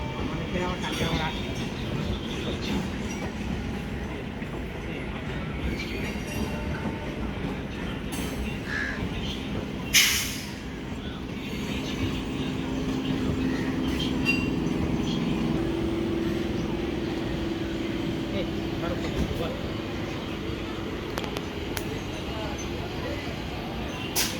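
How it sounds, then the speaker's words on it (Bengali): A local train rolls into a station with a steady low rumble, a sharp metallic clank about midway and a swelling rail roar afterward, with indistinct voices in the background. "এটা একটা লোকাল ট্রেন আসছে"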